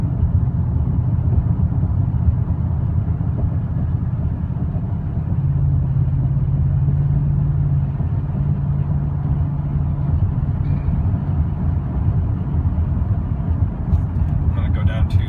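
A GMC Sierra truck engine runs steadily in 5th gear above 2,000 RPM, a continuous loud low drone with a faint tonal hum partway through and no speech over it.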